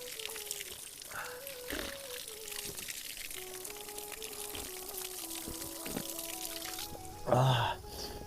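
Spring water pours steadily into bottles at a mountain stop on the Rudranath trek in rainy weather, a continuous trickling stream with a brief louder gush near the end.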